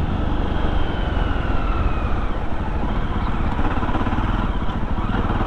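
A Jawa Perak bobber motorcycle ridden on the road, its engine a steady, loud rumble with constant wind and road noise throughout.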